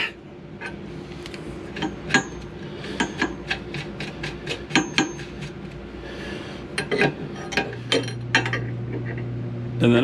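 Metal tools clink and scrape while QA1 adjustable shocks are tightened back up on a car, giving irregular close ratcheting and rubbing noises with a low hum joining near the end.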